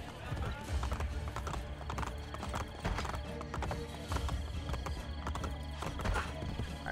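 A horse clip-clops at a gallop in the video game Assassin's Creed Brotherhood, with rapid hoofbeats and a whinny over a busy game soundscape, and a voice talks over it.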